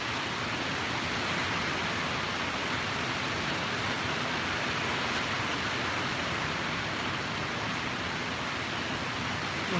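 Steady roaring rush of strong hurricane wind during Hurricane Dorian, loud and continuous, filling the whole stretch with broadband noise and no voices.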